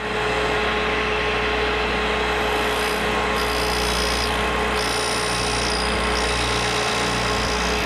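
A grinding wheel runs steadily up close grinding a drill point, its motor drone joined by a harsh abrasive hiss that swells and dips as the drill is fed in.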